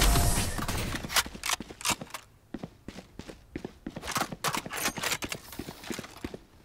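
Enemy footsteps scurrying in the video game Valorant, quick irregular taps in bursts, fairly close and crisp, with no talk over them.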